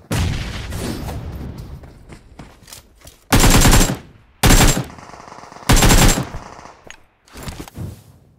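Gunfire in the video game PUBG: bursts of rapid automatic shots, three loud close volleys separated by quieter gaps and softer distant fire.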